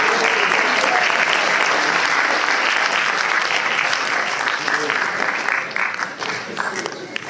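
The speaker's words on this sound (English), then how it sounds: "A big round of applause for him." A crowd gives a big, sustained round of applause, loud and dense throughout before thinning slightly toward the end, with a voice faintly underneath.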